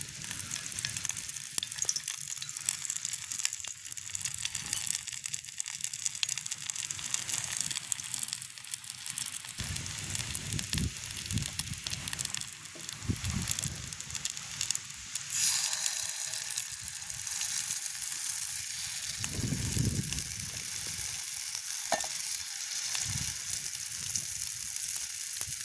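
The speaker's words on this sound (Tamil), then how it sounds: "எண்ணெயிலே தான் இந்த குண்டு தோசை பொறிச்சு எடுக்கணும்." Kundu dosai batter fries in hot oil in a village kitchen, a continuous crackling sizzle with occasional scraping and stirring noises, steady and close throughout with no talking.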